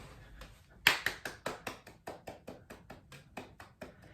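Hand clapping from people in a park, a run of about a dozen faint, evenly spaced claps starting sharply and then settling into a slow steady rhythm, distant and sparse.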